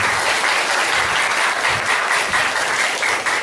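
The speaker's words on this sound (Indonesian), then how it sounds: "Oke, tepuk tangan terlebih dahulu." Dense, continuous applause from an audience at a vocational high school orientation opening, loud and sustained without pause.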